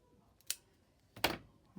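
Scissors snip a small piece of paper off a postcard printable, two distinct crisp cuts a moment apart and a third starting at the end, close and clear in a quiet room.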